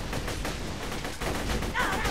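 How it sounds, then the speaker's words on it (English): Rapid gunfire from a gun in the Borderlands 2 video game, a dense string of repeated shots rattling throughout at fairly loud level. "Dude, this gun is so inaccurate"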